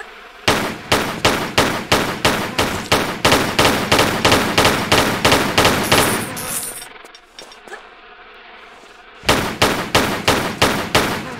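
Gunfire in the video game Tomb Raider III: steady, evenly spaced rapid shots, loud and close, run for about six seconds, stop for a quiet gap, then resume.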